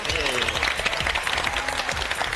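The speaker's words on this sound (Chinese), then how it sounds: "先帮两位妈妈一个掌声好冇？" Studio audience on a televised cooking competition claps for two mothers who cooked, a dense, lively burst of applause running throughout, with a voice talking over it.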